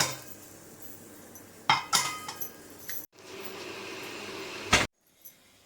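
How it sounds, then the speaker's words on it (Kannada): A pressure cooker lid is put on and closed, giving a few sharp metallic clanks and clinks close by over a faint background hum, ending in a brief knock before near silence. "ಹಾಕ್ಬಿಟ್ಟು ಕುಕ್ಕರ್ನ ಮುಚ್ಚಿಟ್ಬಿಡ್ತೇನೆ"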